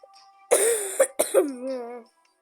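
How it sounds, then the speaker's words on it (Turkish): A short coughing fit, a few harsh coughs in quick succession followed by a strained, wheezy throat sound, close and loud. "ben de öksürük tutulması var"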